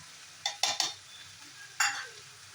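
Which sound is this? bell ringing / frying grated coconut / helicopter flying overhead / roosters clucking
frying grated coconut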